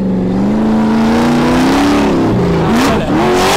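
A Jeep Wrangler engine revs loud and close during double-clutch drifting, its pitch climbing steadily and then dipping and surging again at the end.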